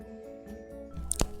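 Acrylic paint smeared with a spatula onto a thrifted board game: one brief, soft, wet squish near the end of an otherwise quiet stretch.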